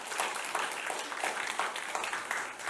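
An audience at a humanities academy lecture in Gwangju, held in a church setting, welcomes the lecturer with sustained applause. Many hands clap in a continuous, fairly loud wash with no speech over it.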